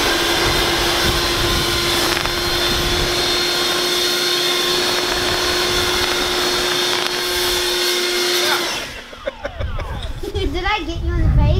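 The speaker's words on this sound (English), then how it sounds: "Kid PREPPER is going to be using the Ego electric blower" Ego electric leaf blower aimed at an umbrella, a loud steady motor roar holding for about nine seconds before cutting off, followed by children's voices and excited chatter.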